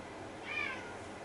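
A house cat gives a single short, clear meow, fairly close, over a quiet background.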